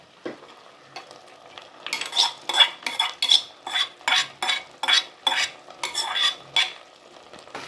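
Sweet pongal being stirred in a pot with ghee-fried cashews and raisins, a series of about a dozen rhythmic scraping strokes of a spoon against metal, close and fairly loud, with no talking.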